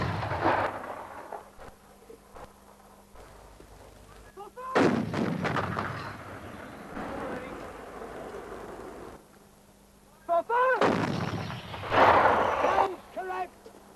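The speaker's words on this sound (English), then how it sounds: "First, though, the enemy was to be pounded with artillery." An artillery bombardment heard in the distance: repeated deep booms and heavy rumbling thuds rolling in several waves over a low background, with a few sharper cracks between them.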